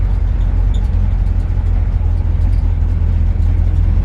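A 1954 Chevrolet 3100 pickup truck drives with the windows up in winter, filling the cab with a loud, steady low engine and road rumble that holds constant throughout, with no talking.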